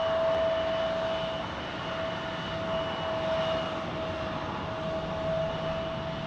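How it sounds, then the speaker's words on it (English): A Learjet 60 comes in to land with a steady whining jet drone and a thin high-pitched tone, heard from a moderate distance and holding an even level throughout. "Next arrival will be a Learjet 60."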